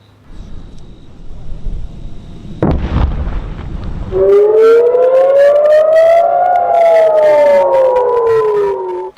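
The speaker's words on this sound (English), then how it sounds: "Israeli forces striking Hamas targets from the air and the ground with a vengeance, pummeling terror targets with missiles and artillery" An air raid siren wails loud and sustained, rising and falling, during missile and artillery strikes on Hamas targets, preceded by a heavy explosive boom and rumble, with faint background voices.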